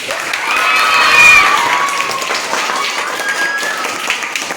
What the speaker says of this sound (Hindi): 6 क्लास जीता, ताली बजाइए।